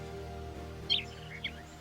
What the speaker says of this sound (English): You know what that is? A real live bird.